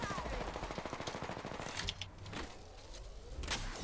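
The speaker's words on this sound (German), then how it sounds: "Von hinten werden wir jetzt noch beschossen." Rapid automatic gunfire rattling in quick bursts in Apex Legends, faint and somewhat distant, with scattered single shots trailing off afterward.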